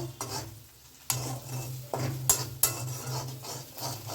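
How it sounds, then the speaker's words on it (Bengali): Spices sizzle in a hot pan for aloo paratha filling while a utensil scrapes and stirs in bursts, with sharp metallic clinks of spoon against pan. "এবার নাড়বো চাড়বো।"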